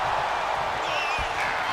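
A wrestling arena crowd in the video game WWE 2K25 keeps up a steady, dense roar beneath the action, with a faint rising whistle-like call partway through.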